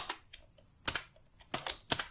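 Keys clatter on a computer keyboard in short, irregular bursts of crisp clicks, close and fairly quiet with no talking.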